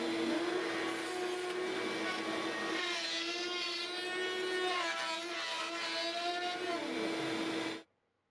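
A router bit cutting fully through wood on an adjustable router template jig, a loud whining roar that holds steady with a wavering pitch for nearly eight seconds and then cuts off abruptly, no voices.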